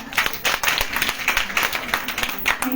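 An audience claps for a speaker at an indoor event, with a dense burst of applause under faint voices.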